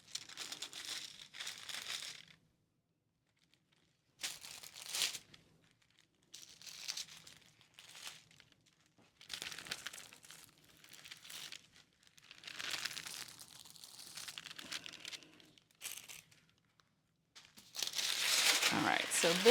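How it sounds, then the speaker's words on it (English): Paper is peeled away from marked fabric in bursts of crinkling and tearing, separated by quiet gaps, with a louder, sustained rustle near the end. "now it's time for the big reveal to take the paper off and see how everything looks"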